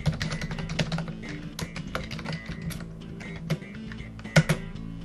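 Fingers type on a computer keyboard, producing light, irregular key clicks in quick bursts with small pauses, alone and close.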